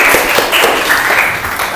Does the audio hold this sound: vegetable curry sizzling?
no